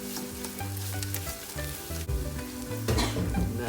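Meatball mixture with basil is stirred and cooked in a pan: busy sizzling with clattering spoon-against-pan stirring strokes, rising louder near the end.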